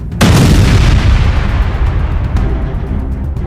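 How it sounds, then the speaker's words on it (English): A huge boom of a star like the sun exploding, an abrupt loud blast followed by a long, deep rumbling roar that stays heavy to the end. "a star like our sun exploded"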